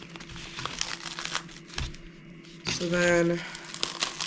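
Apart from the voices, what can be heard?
opening the plastic seal of a meat package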